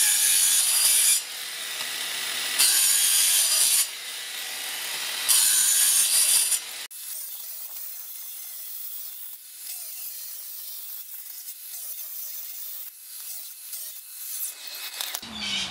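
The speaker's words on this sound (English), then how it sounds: "We're going to do some cut tests now to see which one of these is quicker." A Makita 40V X-Lock angle grinder cuts in close, loud steady bursts of abrasive cutting noise, broken by brief pauses, then gives way to a lower, steadier run with a rougher finish.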